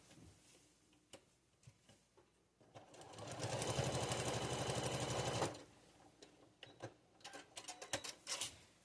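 A sewing machine stitches a foundation paper pieced snowflake quilt block in one steady run of a few seconds, a close whirring buzz with rapid needle ticks, surrounded by quiet handling clicks and rustles.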